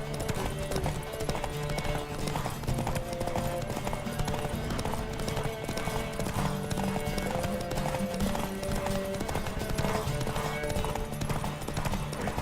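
Rapid, steady hoofbeats of a galloping horse in The Witcher 3: Wild Hunt pound on without pause, layered over game music and ambient effects.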